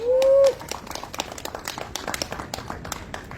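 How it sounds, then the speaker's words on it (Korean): Applause at a rally in Gimcheon, a crowd clapping in a steady patter of many hands after a short electronic tone at the start, moderately loud and continuing for several seconds. "박수 부탁드립니다"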